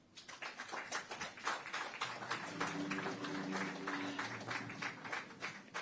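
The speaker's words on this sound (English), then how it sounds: "I want to give a big round of applause to Ken Roxon and Cooper Webb for their solid showing out here" An audience applauds the podium riders at a SuperMotocross World Championship finals press conference: a dense, steady patter of clapping that swells and holds for several seconds, with no one speaking.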